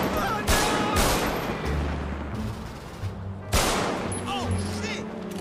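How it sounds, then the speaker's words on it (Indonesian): Gunfire in a GTA game comes as rapid, loud bursts of shots, with sharp cracks at the start and again partway through, over continuous rumbling game noise. "Menembak tepat kali."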